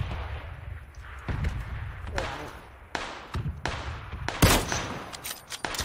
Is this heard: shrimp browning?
no